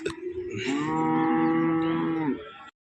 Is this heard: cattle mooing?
yes